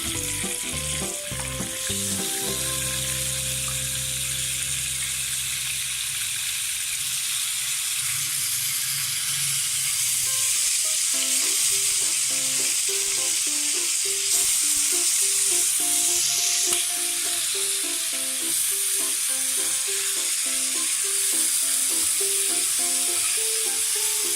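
Tikka pieces fry in a pan of hot oil, shallow-fried rather than deep-fried, making a steady loud sizzle and crackle throughout with some stirring, no talk.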